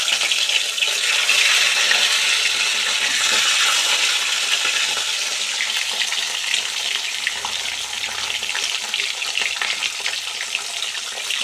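Parshe fish frying in hot oil in a kadai gives a loud, steady hiss and crackle of sizzling that stays dense and even throughout, with no talking.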